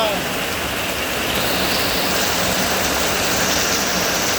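Steady rain pours down, a dense even hiss that stays constant from start to finish.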